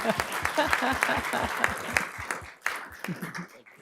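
A crowd at a city council meeting applauds steadily, many hands clapping at once in a dense patter that thins out toward the end.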